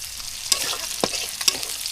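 Onions and chillies fry with a close, even sizzle in a pan while a spatula stirs them, giving three distinct scraping knocks about half a second apart.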